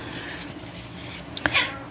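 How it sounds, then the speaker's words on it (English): A pet cat meows insistently for attention indoors, giving two or three short, close yowls late in the take over a low room hum. "my cat's yelling at me. She wants attention"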